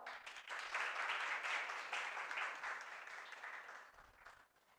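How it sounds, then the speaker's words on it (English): Loud, steady audience applause fills a hall at a World Pharmacist Day 2025 event at a polytechnic, a dense wash of many hands clapping together that swells early and then gradually tapers off near the end. "Let's give a big round of applause to all"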